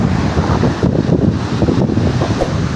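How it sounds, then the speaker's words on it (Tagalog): Strong ocean waves surging at a pier in heavy southwest monsoon wind, a constant roaring rush of surf mixed with loud wind buffeting, close and unbroken throughout. "Kalakas ng alon doon."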